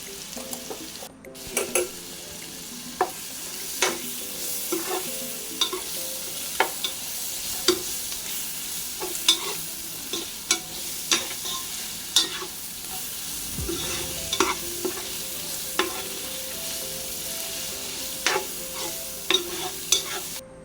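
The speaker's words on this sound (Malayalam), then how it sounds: "ഇഞ്ചി വെളുത്തുള്ളി പേസ്റ്റും കൂടി ചേർത്ത് വഴറ്റിയെടുക്കണം നമ്മൾ" Ginger garlic paste is sautéed in a pan for Chennai-style biryani, with a continuous close sizzle and repeated spatula scrapes and clinks against the pan in a loose, irregular rhythm, and no one speaking.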